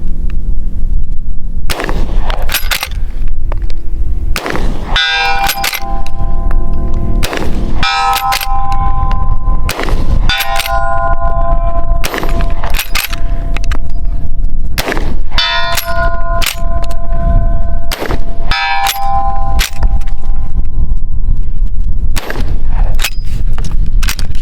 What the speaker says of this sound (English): So ejection, it just kind of ejects straight up like that, not out the side like Marlins and Winchester 92s.